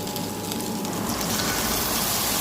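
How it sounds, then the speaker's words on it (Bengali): Chopped onions and green chillies fry in hot oil with cinnamon, bay leaf and cumin for a spicy egg curry, giving a steady, close, dense sizzle that holds evenly throughout with no talk. "পেঁয়াজ ভাজুন"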